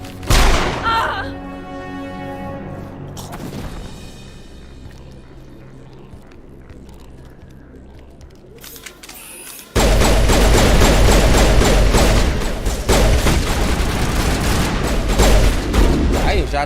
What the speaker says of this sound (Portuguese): Ai, já tem mais tiroteio